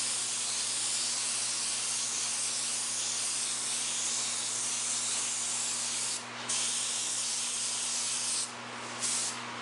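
Spray paint can hissing a fine mist over a paper stencil, a continuous close steady hiss with a couple of brief breaks near the end.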